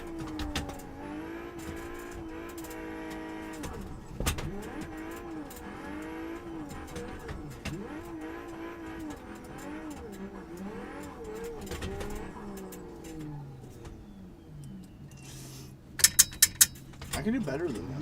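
A car drifting donuts in a parking lot in BeamNG, its engine droning and rising and falling as it circles continuously, with someone talking over it and a few sharp clicks near the end.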